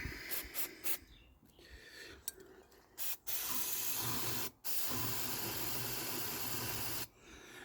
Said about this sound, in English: we've shoved enough brake cleaner up there now